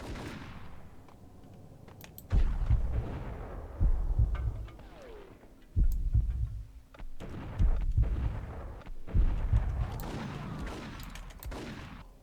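Gunfire in the video game Max Payne: repeated heavy shots and bursts arrive in loud clusters separated by brief quieter gaps, with booming low impacts.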